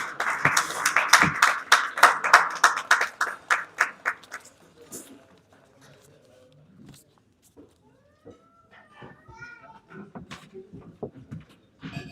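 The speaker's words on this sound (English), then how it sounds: "Please give him a huge round of applause." Audience applause at a gala dinner and awards night, a dense burst of clapping over the first few seconds that fades out as a voice starts speaking at a microphone.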